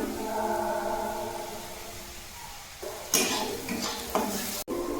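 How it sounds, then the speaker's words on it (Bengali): Onion and garlic frying with turmeric in a pan, a soft steady sizzle with a spoon stirring, then sharper scraping clatters near the end, close and fairly quiet. "এখানে দেখো পেঁয়াজ আর রসুন দেওয়া হয়ে গেছে এটাকে আমি একটু ভেজে নেব হলুদ দিয়ে দিলাম"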